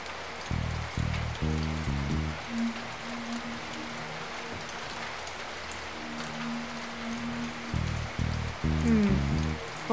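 Steady rain hiss in the Loco Mania video game, a constant wash of falling water running the whole time beneath recurring low, pulsing game music tones.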